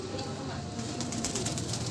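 A caged spotted dove (tekukur) coos softly over a steady background hiss, with low soft calls repeating through the short stretch.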